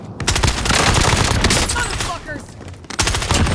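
Rapid automatic gunfire fills a video game battle, dense bursts of shots rattling close and loud, briefly easing before another burst, with faint radio-style voices mixed underneath.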